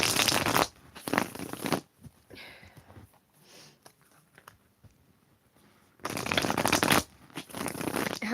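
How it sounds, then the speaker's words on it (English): Tarot cards are riffled and shuffled in two loud rapid bursts, separated by quieter handling and soft tapping sounds. "let me get these cards shuffled out"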